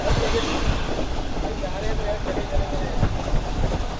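The 14 Down Awam Express, running between Peshawar and Karachi with a ZCU locomotive, rumbles past with a steady, close, heavy rolling roar and faint rattling throughout.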